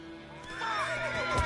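Roach, Geralt's horse in the video game The Witcher 3, gives a single clear, fairly close whinny that rises and wavers over about a second, with faint background ambience.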